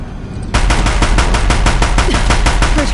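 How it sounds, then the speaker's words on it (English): Deathbringer machines in Horizon Zero Dawn open fire with sustained, rapid machine-gun bursts after a brief quiet moment, a loud continuous rattle of gunfire close by with no talking. "If the Deathbringers keep firing,"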